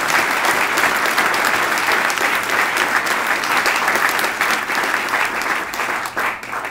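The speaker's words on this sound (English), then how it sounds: "give him a big round of applause" A room full of people applauds after a call to honor a governor at a bill signing for a cigarette tax, steady dense clapping that holds throughout and tapers slightly at the end.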